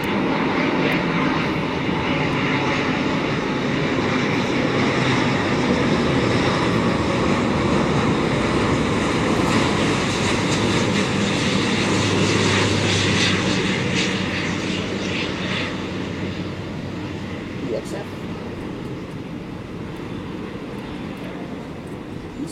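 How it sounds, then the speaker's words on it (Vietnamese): An Emirates Airbus A350-900 landing on runway 25R at Tan Son Nhat, a loud sustained jet engine roar that stays strong then eases slightly toward the end, heard from close by without talk. "nơi chiếc Airbus A350-900 của hãng hàng không Emirates, chiếc máy bay thực hiện chặng bay từ Tiểu Vương quốc Ả Rập Thống Nhất về đến sân bay Tân Sơn Nhất"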